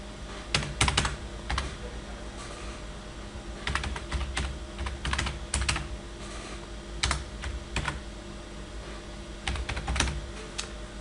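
Password typed on a computer keyboard, a steady run of close, crisp key clicks in irregular bursts and pauses over a low background hiss, with no talking.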